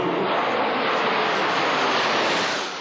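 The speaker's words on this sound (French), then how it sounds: "La réputée patrouille de France assure le spectacle." Patrouille de France jets fly over an air show at a defense day in Florennes, producing a loud, continuous broadband roar that holds steady for a few seconds before easing slightly.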